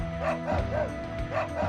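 Several short, sharp barks from a dog in the video game Wild Arms repeat in quick bursts over soft background music, close and clear.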